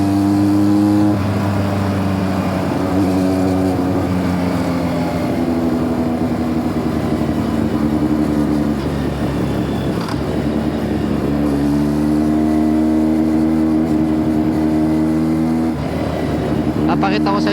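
A Kawasaki Z900 motorcycle engine revs and runs close up, with strong steady harmonic tones that rise and fall through several throttle swells, loud and continuous.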